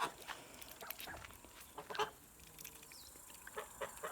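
Three-month-old Kholmogory goslings peeping in scattered, high-pitched calls, several birds close by, with short gaps between chirps.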